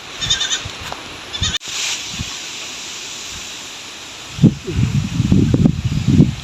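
Goats bleat a few times early on against strong gusting wind on a windy farm where the herd is being pastured, with heavy wind buffeting and rustling dominating the later part.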